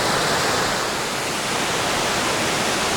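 Emerald Pool Falls pours steadily on a mountain hike, a dense, loud and unbroken rushing roar of falling water heard close up with no voices.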